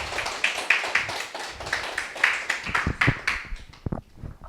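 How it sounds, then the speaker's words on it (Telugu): An audience at a spiritual talk gathering claps in a rapid, uneven patter of hand claps at moderate distance, thinning out and fading toward the end with no speech over it. "ఒకసారి క్లాప్ చేద్దాం."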